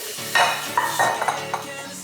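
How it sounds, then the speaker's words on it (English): Utensil scraping and stirring leftover chicken flauta seasoning from the bottom of a hot pan, a few close, short scraping strokes with faint sizzling between them. "So I'm going to get all of this seasoning off the bottom, and I'm just gonna put it in a bowl"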